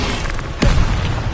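An Incendio fire spell is cast in Hogwarts Legacy, giving one short, loud whooshing boom over a dense, continuous background of game noise.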